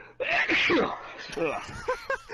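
A sudden sneeze bursts out mid-speech, followed by a groan and more talking close to the microphone.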